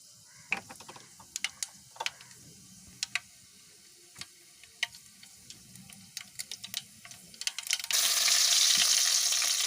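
Mustard seeds pop and crackle in hot oil for chapati noodles, a string of sharp, scattered snaps close by, followed by a sudden loud, steady sizzle in the final seconds.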